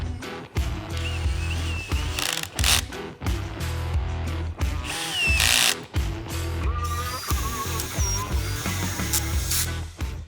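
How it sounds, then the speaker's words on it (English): A cordless power drill runs in repeated bursts, tightening the bolts on black crossbars of a Prinsu Pro roof rack on a 1996-2002 Toyota 4Runner. It whirs loud and close, with motor pitch changes and brief pauses between bolts. "I'm just gonna take my drill and zip them all down"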